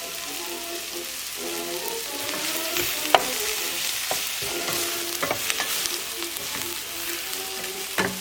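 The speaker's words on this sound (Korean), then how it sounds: "애들이 지글지글 소리가 나서 어 이제 좀 탈 것 같은데" Shrimp, brisket and vegetables for mala xiang guo sizzle and crackle loudly in a hot pan over high heat, with scattered pops and the scrape of stirring throughout.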